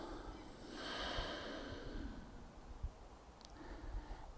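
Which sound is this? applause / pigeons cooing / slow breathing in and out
slow breathing in and out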